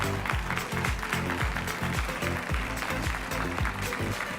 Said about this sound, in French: levez-vous et applaudissez votre frère, votre fils Lambert Kwasi Konan.